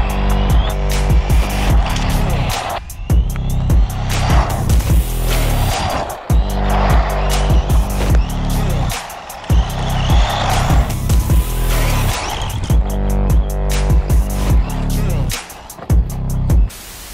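A Bonzai Jubatus B416 1/14 scale RC buggy runs fast, its small electric motor whining in repeated bursts that rise and cut off abruptly, with tire scrabbling between passes, loud and close throughout.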